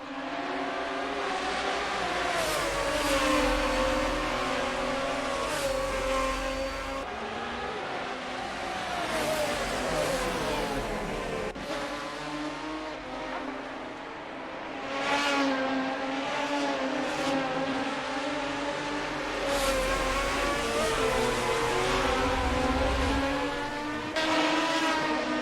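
GT race cars roar side by side around the Nürburgring Nordschleife in Assetto Corsa. Several engines drone, rev and shift together at close range for the whole stretch, steady and loud, with a few brief dips.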